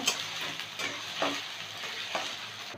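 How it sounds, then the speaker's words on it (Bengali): Chopped onions with dried red chillies sizzling in hot oil in a pan, a steady fry punctuated by a few scrapes of stirring. "পেঁয়াজটাকে একটু ভেজে নেব।"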